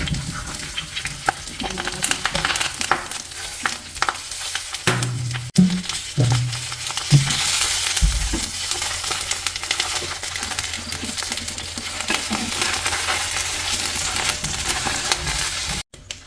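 Karimeen, pearl spot fish wrapped in parcels, frying in coconut oil in a pan: a steady close sizzle and crackle running throughout, with occasional clinks and scrapes of handling.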